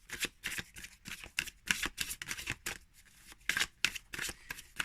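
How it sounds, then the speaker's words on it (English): Crisp bursts of new oracle cards being shuffled, repeated riffles in quick rhythm, close and fairly quiet with no talking. "So let's start shuffling to see how it is."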